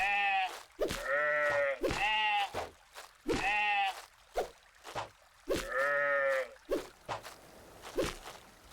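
Sheep in a dark fantasy survival RPG bleating repeatedly and close up, about five drawn-out calls in a row with soft thuds and footsteps between them.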